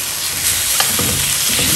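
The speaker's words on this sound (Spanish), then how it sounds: "simplemente vamos a sellar nuestro pollo" Chicken sears in a pan ahead of the liquid for pollo sudado, a loud close sizzle with a couple of stirring scrapes partway through.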